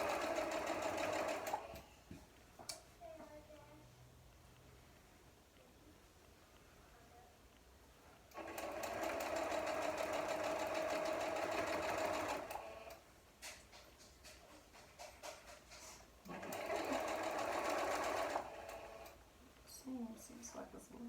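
A sewing machine stitches a half square triangle quilt block in three bursts of rapid, steady running, with pauses of quieter handling between them.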